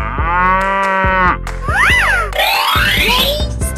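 A cartoon cow moos loudly in a drawn-out, wavering low call, mixed with playful springy boing effects and bright tonal game sounds, with no talking.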